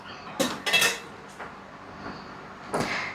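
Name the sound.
closing the lid of the idli steamer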